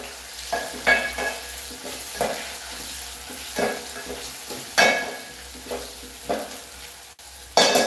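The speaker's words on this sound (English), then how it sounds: "Let me just give the onions a swirl." Onions frying in a pan, a steady soft sizzle broken by repeated bursts of stirring and scraping against the pan, close by with no talk.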